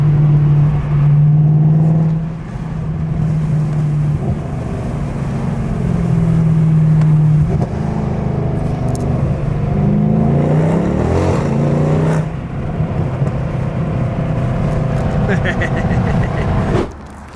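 A BMW F80 M3 fitted with an E12 intake drives along, its engine droning loud and steady with shifts in pitch as it accelerates and settles, while a voice talks over it for much of the run.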